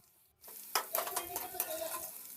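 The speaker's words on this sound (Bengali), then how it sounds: "একটু বেশি করে তেল দিয়ে ভাজবেন" Vegetables fry in oil in a pan for mixed fried rice, a steady close sizzle starting after a short quiet moment, with stirring scrapes and utensil clinks on top.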